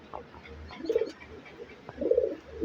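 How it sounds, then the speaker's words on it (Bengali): Pet pigeons being readied for a tournament coo twice, each a short low throaty burst, fairly close against faint background noise, with no talk over them. "এই যে এই কবুতরটা তো দেখতে পাচ্ছেন"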